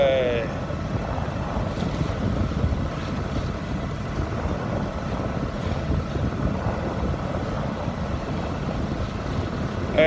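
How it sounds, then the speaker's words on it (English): A sailboat motor sailing into a headwind: a steady engine drone runs under continuous rushing wind and microphone buffeting, with water noise around the hull and no clear talk. "motor sailing in the headwind"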